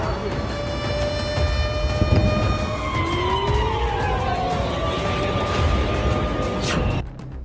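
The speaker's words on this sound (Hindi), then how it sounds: "सड़कों के ऊपर फौजी वाहन है और उसके साथ साथ एम्बुलेंस भी यहाँ पर दौड़ती हुई देखी जा सकती हैं सड़कों के ऊपर।" Emergency sirens wail on the streets of Kyiv in wartime, ambulances among the traffic, rising and falling in sweeping overlapping tones that hold loud and steady over street noise for about seven seconds.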